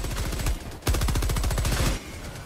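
Rapid automatic machine gun fire in the Helldivers 2 video game, loud sustained bursts with a brief pause before a second long stream of evenly spaced shots.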